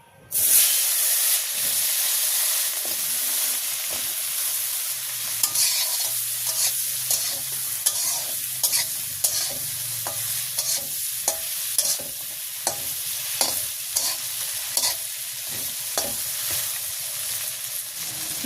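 Eggplant sizzles in a village kitchen wok without added oil, a steady frying hiss broken by repeated scraping stirs of a spatula, close and continuous throughout.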